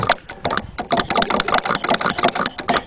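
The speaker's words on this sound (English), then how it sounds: "You can see how slowly the engine will run here." A small Pioneer engine running slowly while held back by finger drag, giving a close, loud, rapid chain of regular chuffing pulses with no voices.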